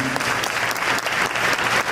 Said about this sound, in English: keep the applause going for my friend, Mr. Cedric Dew.